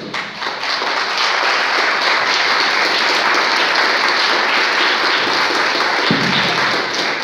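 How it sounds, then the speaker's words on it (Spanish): Sustained applause from an audience at a Masonic lodge gathering in Xalapa, Mexico, a dense steady roar of many hands clapping together that stays loud throughout. "Más fuertes aplausos, por favor."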